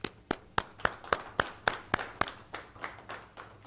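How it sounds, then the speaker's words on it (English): Hands clap at a Fall 2020 DOCC graduation, about a dozen crisp, evenly spaced claps that fade slightly toward the end, fairly faint and alone. "I applaud you."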